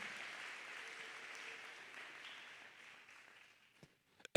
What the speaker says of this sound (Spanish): El que me esté entendiendo puede regalarle un aplauso al Señor en esta hora.